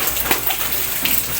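Rain pours down outdoors in a dense, loud, steady hiss with scattered splashy impacts and no voices.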